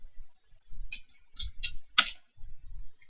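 Keys tapped on a computer keyboard while typing a software name into a search field, a few quick clustered clicks in short bursts, close and fairly soft, with no talking.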